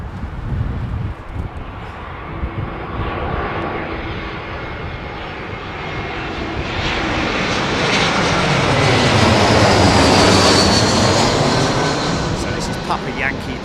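An Emirates Airbus A380 airliner arrives at Heathrow Airport, its engine roar building steadily from a distant rumble to a loud, broad wash that peaks as it passes close, with wind buffeting and a voice talking briefly underneath.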